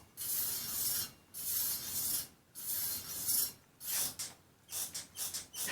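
A floating brake rotor on a Sur Ron Light Bee electric bike scrapes against its pads in repeated hissing, grinding passes, about eight rubs of uneven length, loud and close with nothing else heard.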